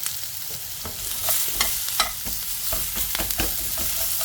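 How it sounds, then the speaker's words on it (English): Onions fry in rendered meat fat in a pan, crackling loudly and steadily, with repeated scraping stirs breaking them up. No voices are heard. "then I'll probably add the onions, and they can cook in the same fat"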